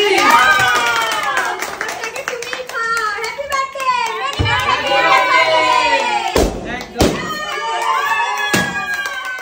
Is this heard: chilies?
no